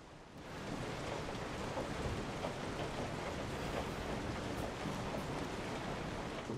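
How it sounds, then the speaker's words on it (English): Heavy rain in the Resident Evil 7 video game, a dense, steady hiss of downpour that starts abruptly and holds at an even level throughout, with no talk. "Pretty cool rain effects."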